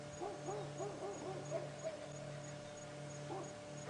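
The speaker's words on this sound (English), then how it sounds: "something's disturbed the dogs closer to camp" Dogs near a safari camp give faint, distant whimpering and yelping calls in short bursts over a quiet night background with no talking.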